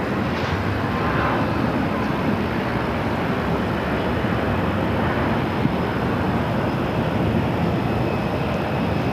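Boeing 767 jet at Phoenix Sky Harbor airport, a steady broadband engine roar that holds loud and constant throughout, like an airliner taxiing or passing nearby.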